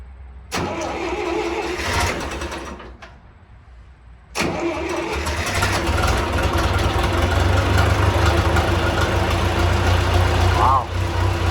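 A John Deere model 2020 tractor cranks, stops, then catches on a second try and settles into a loud, steady running rumble, with people talking over it.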